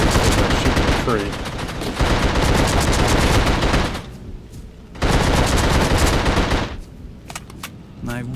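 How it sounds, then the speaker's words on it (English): Dense automatic gunfire from The Suffering video game rattles in long loud bursts, cutting off briefly before a second sustained volley and a few scattered final shots. "He's sitting there shooting a tree."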